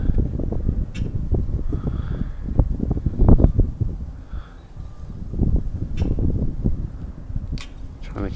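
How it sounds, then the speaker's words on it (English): Steady outdoor wind gusting against the microphone as a low rumbling roar that swells and eases throughout, with a few faint clicks and no clear talk. "the wind's kind of blowing me"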